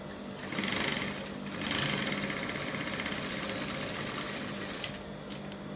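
A sewing machine stitching a corset lacing bar runs in close, steady mechanical bursts with a brief pause, its rapid whirring and clatter filling the space without any talk.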